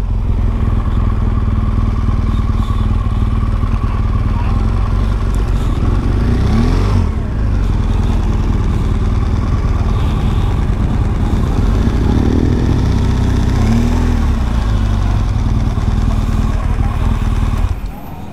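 BMW R1200GS motorcycle engine running at a ferry crossing between Vung Tau and Can Gio, a steady low drone with a brief swell partway through and some clatter around it, cutting off near the end.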